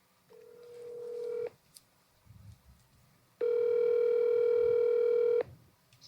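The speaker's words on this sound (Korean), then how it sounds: "전화 연결 한번 해보겠습니다." A telephone call is placed: a dialing tone sounds for about a second, then after a short gap a louder steady ringback tone holds for two seconds, both clear and close with no voices.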